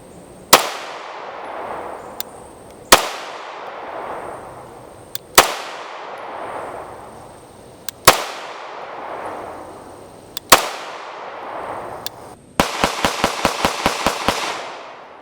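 A Springfield Armory 1911 EMP 9mm pistol fires five loud single shots a couple of seconds apart, each ringing out with a long tail, followed by a quick burst of about eight rapid shots, outdoors with faint distant reports between.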